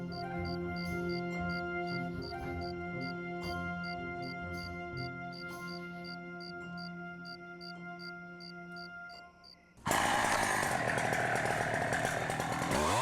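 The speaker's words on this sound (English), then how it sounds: "Chainsaws are only used in the Leinzer Tiergarten when rotten branches threaten to fall on pathways" A chainsaw cuts rotten branches from oak trees in a Vienna forest park, its engine idling with a steady harmonic drone before roaring loudly into a full-throttle cut for the last few seconds.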